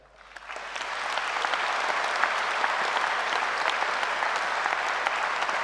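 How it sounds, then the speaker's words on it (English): A graduation audience at Edinburgh Napier breaks into applause that swells within the first second, then holds as a loud, thick, continuous clapping roar to the end. "So please, give yourself the loudest applause for your strength, your journey, and the recognition that you deserve."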